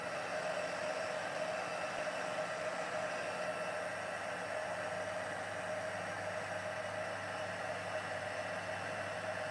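A heat tool blows with a constant, even whirring hiss as it melts black embossing powder, steady and close throughout, with no speech.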